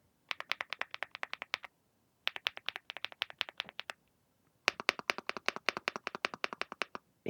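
Crisp, clacky keystrokes on an MCHOSE GX87 mechanical keyboard, with a mahjong-tile quality, in three quick bursts separated by short pauses, close and fairly quiet, with no speech.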